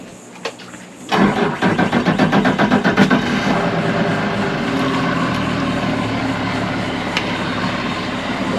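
A boat engine cranks with a rapid chugging burst, catches and settles into a steady running drone that continues at moderate loudness, no voices present.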